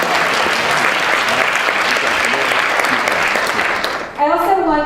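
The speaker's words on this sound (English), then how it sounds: "Applause." Loud, sustained audience applause at a theatre leadership gathering fills the room for about four seconds, then drops away as a single voice starts talking.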